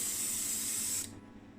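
An airbrush sprays Vallejo Air paint onto a model truck, a steady close hiss that cuts off abruptly about a second in, leaving faint background noise.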